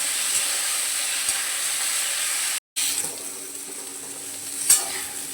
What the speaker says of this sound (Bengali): এবার আলু আর ডাঁটাটাকে ভালো করে ভেজে নেব।